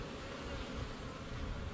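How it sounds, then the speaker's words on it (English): Honey bees buzz steadily in front of a farmhouse hive on a cool day, a dense, continuous low hum of many insects with no talk. "This is the activity in front of the farmhouse hive."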